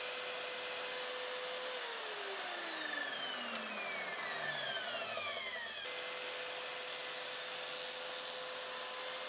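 Plunge saw set to a 2 mm depth, cutting through the splinter guard on a track rail. A steady motor whine drops in pitch as the blade bites and slows, then recovers to its full, even tone.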